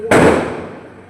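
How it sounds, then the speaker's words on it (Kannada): A single sharp firecracker bang goes off nearby, followed by a short fading rumble. "ಪಟಾಕಿ"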